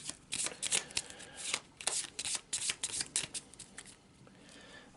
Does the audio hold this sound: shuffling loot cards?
yes